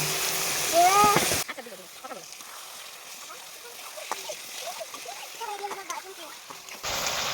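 Chicken meat drops into hot spiced oil in a pan with a loud splash and burst of sizzling, which settles into softer crackling and frying before another loud sizzle at the end.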